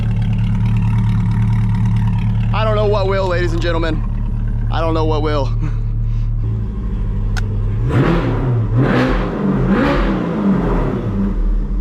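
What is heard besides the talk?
C8 Corvette with titanium exhaust revving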